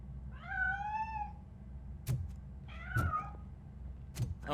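Cat in the Robocop: Rogue City video game meows twice, clear and close, with sharp metallic knocks and footfalls between the cries over a low background hum.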